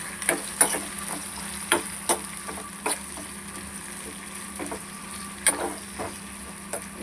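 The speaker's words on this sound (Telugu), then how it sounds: "రొయ్యల్ని వేసుకున్న తర్వాత ఇలా ఫ్రై చేసుకోవాలి కొద్దిసేపు వరకు." Prawns frying in hot oil in a pan for a prawn tomato curry, a steady soft sizzle under scattered sharp crackles and pops, close and fairly quiet with no talking.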